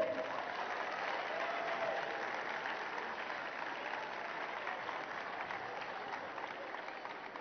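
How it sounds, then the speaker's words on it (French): Crowd applause for the Italian team at an international sports event, heard as steady, moderately distant clapping that holds evenly throughout. "Gros applaudissements pour l'équipe d'Italie, s'il vous plaît."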